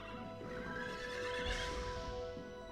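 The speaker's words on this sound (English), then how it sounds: "That's a ghost horse." A ghost horse in the video game RaiderZ lets out a long, loud whinny with rough breathy texture, steady throughout, heard alone without talk.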